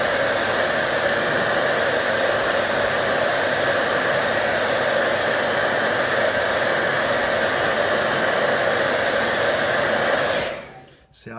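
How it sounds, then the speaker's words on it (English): Steady, loud whoosh of an air dryer blowing on wet watercolour paint of a fishing-boat scene, running continuously for about ten seconds before cutting off abruptly near the end. "I'll dry it with air dry so you can see how much lighter"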